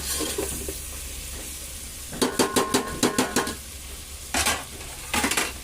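Onions cook in oil in a covered pan, giving a low steady sizzle broken by bursts of rapid scraping and clattering as the mixture is stirred, loud and close.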